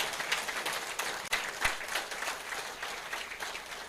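Audience at a Ghana climate atlas launch ceremony applauding, a dense, even wash of clapping heard from within the hall.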